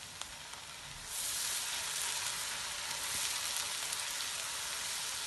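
Softened onions frying in a pan as ginger garlic paste goes in, a steady bright sizzle that swells louder after the first second and keeps hissing evenly, with no talking.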